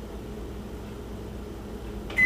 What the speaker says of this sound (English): then you put it in the microwave for 3 minutes